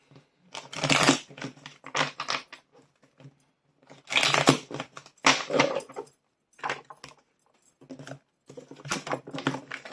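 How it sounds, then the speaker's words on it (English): Tarot card decks are shuffled by hand in quick bursts of papery riffling and tapping, close and fairly clear, with pauses of near silence between the shuffles. "you can see me actively shuffle the decks in between"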